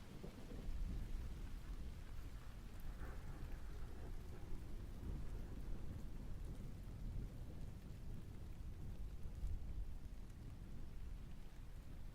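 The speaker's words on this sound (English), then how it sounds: "Let me know if the rain sounds are too loud." Steady rain with rolling thunder plays as continuous background ambience, a dense wash of falling drops with low rumbles throughout, no voices present.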